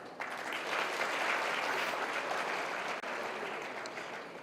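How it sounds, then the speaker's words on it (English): An audience at a Pakistan Day event applauds for a singer: a steady, dense wash of clapping that holds at full strength for several seconds and fades slightly at the end. "Also, I would request you to applaud for her."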